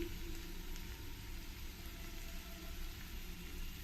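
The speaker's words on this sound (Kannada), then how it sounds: "ಒಂದೇ ಸಲ ಈ ಥರ ಎಣ್ಣೆಲಿ ಫ್ರೈ ಕೂಡ ಮಾಡ್ಕೊಳ್ಬೋದು" Ivy gourd and cashews fry in hot oil with a soft, continuous sizzle and low crackle, faint and steady throughout with no talking.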